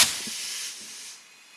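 Compressed air hissing from a compressor hose in a hot rod garage, a sharp burst that fades over under two seconds, close and alone.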